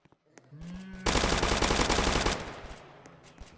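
Rapid automatic gunfire in a Roblox zombie game, a loud sustained burst of about a second and a half after a short mechanical click and rising tone, then fading away, with no talk.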